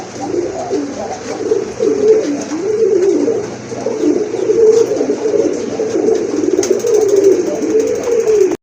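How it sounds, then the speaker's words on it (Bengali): A male Lahore pigeon coos continuously and close by, its low throaty rolling calls rising and falling in steady waves, with faint background bustle behind it. "দেখেন লাহোরের একটা নর কবুতর রয়েছে"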